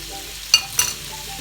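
Chicken seasoned with salt and black pepper frying in a pan, a soft steady sizzle with two brief louder bursts of stirring, quiet and alone.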